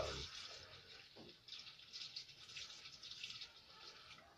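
Water is poured into a camper's P-trap drain during winterizing, a soft, fairly faint gurgling trickle that goes on for several seconds with no talk.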